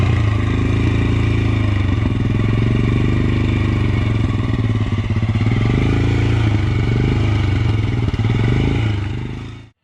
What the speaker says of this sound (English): let's check out the exhaust note of the BS6 version.